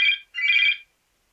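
Two short electronic phone rings from an unknown caller, a brief burst followed by a longer one, clear and close, with no talk over them.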